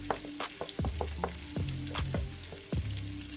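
Garlic and red onions sauté in oil for Filipino pancit bihon guisado, a close steady sizzle with sudden crackling pops and hisses as pieces hit and move through the hot pan.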